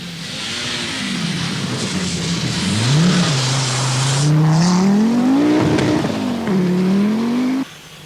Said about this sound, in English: Throwing his Saab into the classic reverse flick, former factory driver Ulla Stromberg is as spectacular as ever